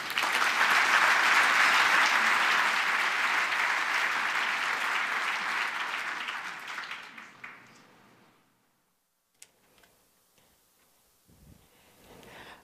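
Applause from a conference audience fills the hall loudly and steadily for several seconds, then thins and fades into near silence, with a few scattered late claps and faint room noise.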